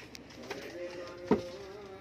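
A pure Ferozpuri breeding pair of pigeons gives soft, close throaty coos, one brief burst of cooing over a quiet background.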